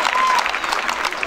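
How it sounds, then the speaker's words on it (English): Students at a college ceremony clapping for the board, a dense burst of crowd applause, brief and fairly loud, with a faint tonal whine running through it. "can you clap for the board?"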